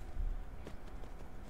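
A horse's hooves clip-clop on the ground in the Skyrim video game, a quick, faint series of soft thuds at a walking pace.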